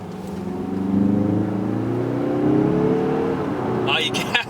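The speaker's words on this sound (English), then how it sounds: "Oh, you can hear the turbocharger." A 2025 Mazda 3 sedan accelerating, heard from inside the cabin as a rising engine drone with a faint turbocharger whine climbing in pitch, steady and moderate, ending with a short sharp click.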